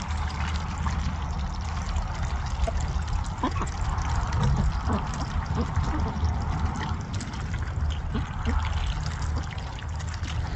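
Water from a rainwater harvest system trickles and splashes steadily outdoors, a continuous close wash of liquid sound holding at an even level throughout.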